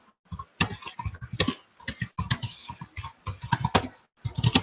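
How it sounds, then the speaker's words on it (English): Rapid, uneven keystrokes on a computer keyboard, typed up close with no talking over it: dense bursts of clicks with brief pauses between runs. "I am typing it in the chat"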